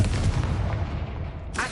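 A Confringo blasting spell explodes in a Harry Potter video game: a loud, booming blast that rumbles on for over a second, then a sharp burst of fresh sound at the end.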